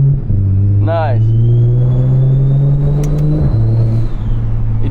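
BMW 335i E92 engine and exhaust drone steadily while driving downtown at night, a clean, rasp-free note with a brief gear-change dip, close and loud under a voice speaking.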